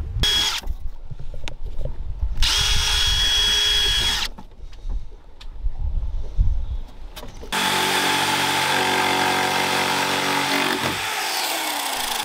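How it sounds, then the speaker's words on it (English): A power drill whirs in several close bursts, stopping and starting, then a longer high-pitched run as the bit pre-drills holes in plywood during a wooden boat bow repair. "Now, pre-drill all my holes in the"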